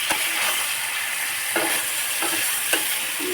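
Fish curry (a Bengali fish chorchori) sizzling in a pan as broth is poured in, a steady bright hiss with a few soft clicks of stirring, close and alone without talk.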